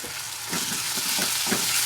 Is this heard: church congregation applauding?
no